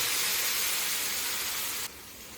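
Spice paste hits hot frying onions in a pan for pepper-roasted mackerel, giving a steady, bright sizzle that suddenly drops quieter near the end.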